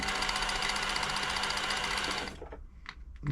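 A Silver/Pfaff 1139 sewing machine running at steady speed with a fast, even mechanical whir and clatter, close and loud, then stopping abruptly and leaving a few small clicks.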